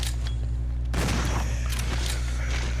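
A shotgun in Resident Evil 0 fires a single sharp, loud blast close by, which rings out over a steady low hum of game background and decays over the next second or so.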